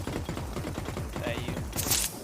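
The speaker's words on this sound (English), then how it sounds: "that's the one shooting in favela" Rapid video game gunfire rattles in dense bursts, a steady automatic fusillade with a sharp crack near the end, heard without talk over it.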